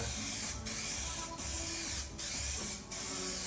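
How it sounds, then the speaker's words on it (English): Short hissing bursts of a spray paint rattle can, several in a row with brief pauses between, fairly quiet and close. "If you don't know how to spray paint with rattle cans"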